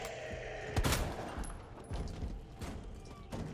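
Gunfire in the Resident Evil 2 Remake video game: a sharp loud shot early, followed by several fainter bursts and booms amid game ambience, with no talk.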